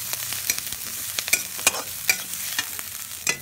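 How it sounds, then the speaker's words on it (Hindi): Onion, carrots and beans frying in a pan, with a steady close sizzle broken by repeated clinks and scrapes of a spoon stirring the vegetables; no talking. "अब इसमें हम गाजर बीन्स सब डाल देंगे और फिर फ्राई इसे हम फ्राई"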